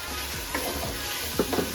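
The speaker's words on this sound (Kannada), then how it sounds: "ಚೆನ್ನಾಗಿ ಫ್ರೈ ಮಾಡ್ಕೊಳ್ಳಿ" Ground garlic, ginger and mint paste fries in a pan for biryani, giving a close, continuous sizzle with a few scraping stirs.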